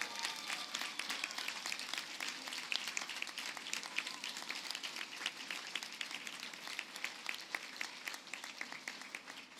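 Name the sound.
graduates applauding their supporters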